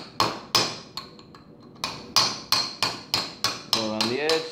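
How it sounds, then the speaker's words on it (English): Repeated hammer strikes drive a Speedi sleeve onto the front yoke of an NP203 transfer case, about ten sharp metallic blows in a steady rhythm, close and loud, with the final hits turning duller as the sleeve bottoms out. "you'll start to hear a thud, letting you know that it's kind of touching the bottom there"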